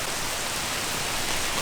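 Heavy rain pours down as a thunderstorm gust front arrives, a dense, unbroken hiss of falling water for a couple of seconds with no voices.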